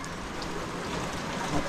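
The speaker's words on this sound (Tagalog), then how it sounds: "Ulan." Steady rain pours down at a family home in the Philippines during a stormy night, a dense, even hiss of drops on surfaces that holds constant throughout with no voices.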